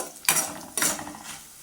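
Coriander seeds and spices dry-roast in a pan, and two sharp, close stirring scrapes cut through a quiet sizzle.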